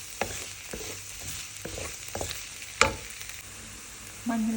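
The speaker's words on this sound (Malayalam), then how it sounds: "ഓയിലും ഓണിയൻസും ഇട്ട് സോട്ട് ചെയ്തെടുക്കുകയാണ്." Onions sautéing in hot oil in a pan with garlic-ginger paste and green chili for chicken curry, a steady close sizzle broken by several scraping stirs and a sharp clack near the end, no talk.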